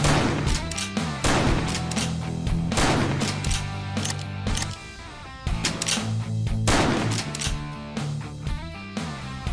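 A Serbu Super Shorty shotgun fires in video game scenes, with repeated sharp blasts and booms over a loud musical soundtrack. The shots come in irregular bursts throughout, and no talk is heard.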